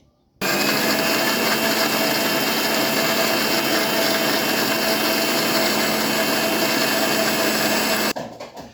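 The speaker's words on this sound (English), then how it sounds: "So I'm going to blend all this together, bring them into a beautiful proper mix." A blender whirs steadily as it purees onion, Cameroon pepper and uziza seed for banga soup, a loud continuous motor drone with a constant pitch that runs for about eight seconds and then cuts off abruptly.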